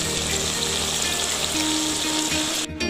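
Beef strips frying in a pan, a dense, steady sizzle that fills the clip alone, with a brief break near the end as the pan is stirred.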